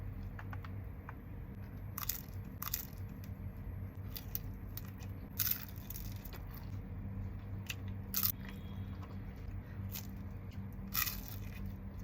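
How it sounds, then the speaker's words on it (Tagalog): Crunchy bites into crisp fried lumpiang Shanghai spring rolls with calamansi, sharp crackling bursts at irregular intervals over a steady low background hum, close up and with no talking. "Kain din tayo ng lumpiang Shanghai."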